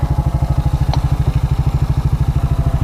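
A 2001 Suzuki Quadrunner 250 4x4 ATV engine, low-mileage but smoking and with a sticking throttle, idled close by with a steady, rapid, loud chugging pulse throughout.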